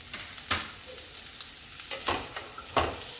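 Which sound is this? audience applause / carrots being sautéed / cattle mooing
carrots being sautéed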